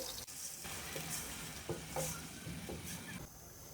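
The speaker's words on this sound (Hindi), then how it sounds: "प्याज हम हल्के से गोल्डन करेंगे" Finely chopped onions fry in a pan for a Punjabi-style makhan dal mash tadka, giving a steady low sizzle with faint stirring and occasional clinks throughout, no talk.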